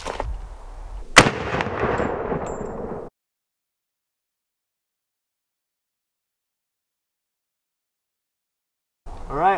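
A single loud rifle shot from a 5.56 firing a 62 grain round cracks at an outdoor range, with a sharp report and a rolling echo that fades within about two seconds, followed by silence.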